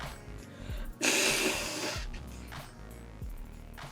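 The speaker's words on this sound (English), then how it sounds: "We're gonna blow my nose." A single forceful nose blow bursts out close by, followed by quieter sniffs and breaths.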